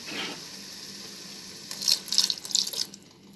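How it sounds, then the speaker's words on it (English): A little water goes into a cooking pot where food has started to stick to the bottom, a short splashing burst after a quiet moment, close and brief. "I'm going to add just a little bit of water."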